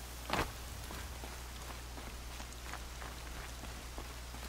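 Steady rain falls in Horizon Zero Dawn, a dense continuous hiss of drops with a few sharper ticks and a brief louder splash or step near the start, no talking.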